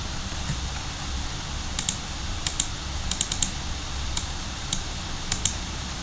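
A computer keyboard is typed on while a comment is deleted on a remote access server: uneven bursts of crisp key clicks, close up, over a low steady hum.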